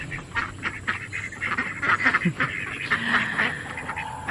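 Several ducks quack repeatedly and loudly nearby, their calls overlapping in a busy, continuous chorus.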